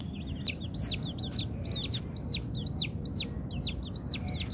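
Small chickens walk around beside a pool where ducks are bathing, giving a rapid series of high, chirpy peeps and clucks over a steady low background hum, with no voices.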